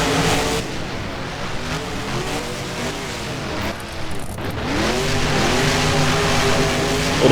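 Monster truck engines racing in the video game BeamNG at an Arlington track: a loud, continuous engine roar with rising and falling revs as the trucks accelerate, steady and close, with no voices over it.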